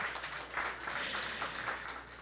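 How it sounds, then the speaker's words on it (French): Modest applause from the audience at a French popular-science talk event, a soft, fairly distant crackle of clapping hands that stays steady for a couple of seconds. "Oui, s'il vous plaît, applaudissez-le, applaudissez-le."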